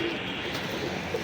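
A brief stretch of low, soft pigeon cooing from a loft of birds, faint and murmuring over a steady background.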